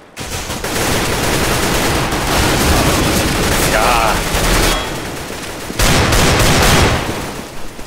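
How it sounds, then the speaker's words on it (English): Heavy gunfire in the video game Counter-Strike: Global Offensive on the Cache map, loud rapid automatic bursts and overlapping shots that pour out almost continuously, with a brief lull before another intense volley. "I don't think I've heard this much shooting in this game"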